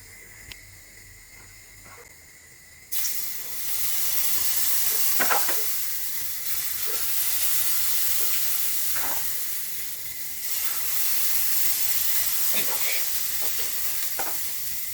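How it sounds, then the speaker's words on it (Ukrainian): Pancake batter hits a hot frying pan and a loud, steady sizzle starts, hissing continuously up close with faint clinks and scrapes over it. "Коли сковорідка вже буде така більш нагріта, заливаємо наші панкейки."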